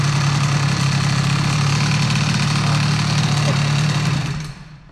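Air-cooled Stage6 MK2 scooter engine idling after a throttle blip, a steady, close, buzzy drone holding even for several seconds before quickly fading out at the end.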